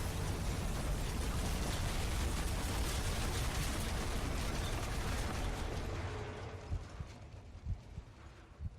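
A big explosion in the video game F.E.A.R. roars as a loud, sustained broadband blast for about six seconds, then fades into scattered crackling pops and rumbling debris.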